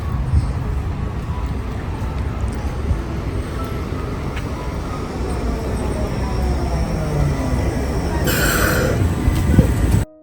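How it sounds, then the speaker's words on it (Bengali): A tram arriving at a stop in Germany gives a steady, broad rumble and hiss of rolling wheels and motor. It builds slightly toward the end, with a brief brighter burst near the close and no talk. "তো এই ট্রামটা ধরে আমি আজকে যাব ইন্ডিয়ান সুপার মার্কেটে।"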